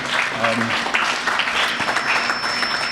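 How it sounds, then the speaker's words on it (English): Middle school students and guests at a day-of-giving assembly break into applause, a dense, continuous clapping from a sizable crowd with some voices mixed in underneath. "give yourselves a big round of applause"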